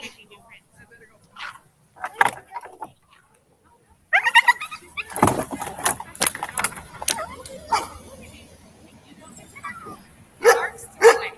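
Dogs bark, yip and whimper in short irregular bursts as they meet for the first time, close and fairly loud, with people talking in between.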